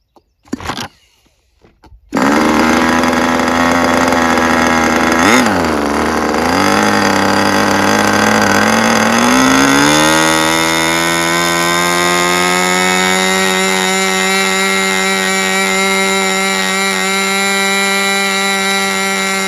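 A 40-size two-stroke model engine, ASP versus Magnum, fires after brief silence and screams at a loud, steady high pitch, its tone wavering early and then climbing and settling as it runs on without any talk.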